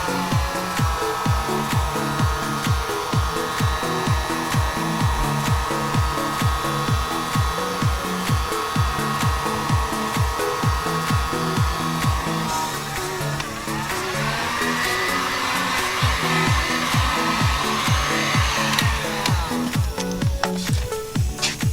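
A heat gun or hair dryer blows steadily on the adhesive of a Rugged Ridge entry guard for a Jeep Wrangler Unlimited JK before installation, a constant close whir overlaid with rhythmic mechanical pulsing throughout.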